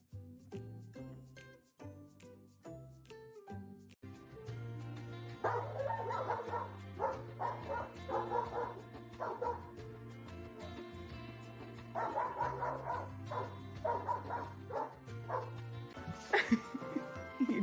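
A small dog yips and barks in quick repeated bursts, close and fairly loud, over a steady backing of music.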